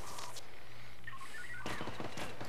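Gunfire in the heist shooter game Payday 2, a few sharp shots and brief bursts near the end, with game electronic tones before them and no talk over it.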